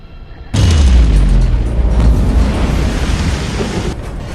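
A sudden loud cannon blast booms after a moment of quiet, followed by a deep, rumbling roar that slowly fades.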